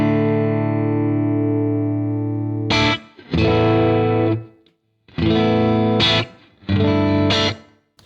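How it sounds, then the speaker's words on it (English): Electric guitar chords through a Boss Tube Amp Expander Core room ambience effect ring out with a roomy, natural ambience, first a long sustained chord, then several shorter strummed bursts separated by brief pauses. "The air fill creates a sort of a in the room sort of sound."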